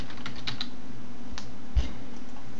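A computer keyboard being typed on while a thread title is entered on a forum posting page, with a run of soft, quick key clicks and one slightly heavier keystroke near the end, close and with no voices.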